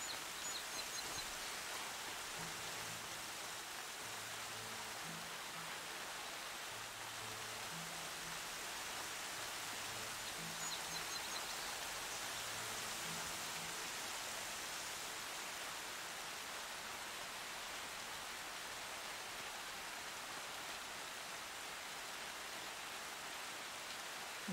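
Steady rain falls in the video game Horizon Zero Dawn, a dense, even hiss that runs throughout, with faint low tones sounding softly beneath it.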